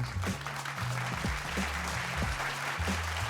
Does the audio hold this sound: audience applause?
yes